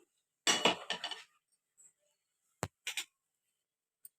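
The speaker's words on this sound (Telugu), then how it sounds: "ఇప్పుడు స్టవ్ వెలిగించి బాండీ పెట్టుకుంటున్నాను" A metal kadai pan is set down on a gas stove, giving a burst of clanks and scrapes followed by a few sharper separate knocks, close and fairly loud against quiet.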